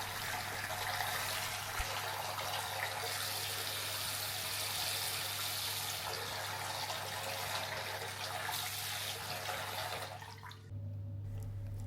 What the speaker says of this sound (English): So I'm just turning these on and giving the tap a test run